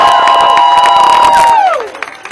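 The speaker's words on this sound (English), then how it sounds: "let's give another amazing round of applause to Cecilia Wong" Crowd cheering and applause at a gathering outside the Supreme Court during the birthright citizenship hearing, a loud dense roar of voices and clapping with a whistle-like tone that slides down before fading.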